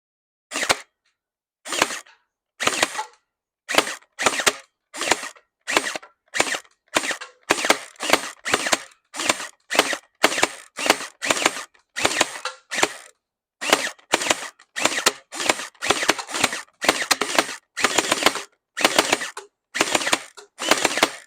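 An OENLOL Scorpion EVO gel blaster fires at small targets in a string of sharp, snappy bursts of shots with brief pauses between them. The shots are close and loud, and no one speaks.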